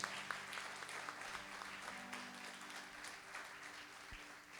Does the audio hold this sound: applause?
yes